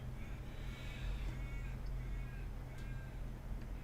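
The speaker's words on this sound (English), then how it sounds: "Everyone hear the crow?" Crow cawing outdoors in cold weather, several harsh caws spaced across the stretch over a steady low hum, fairly faint and distant, with no talk.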